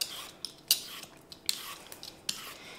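A utensil stirring ingredients in a pan, sharp metallic clinks and scrapes at irregular intervals, close and fairly loud over a quiet background.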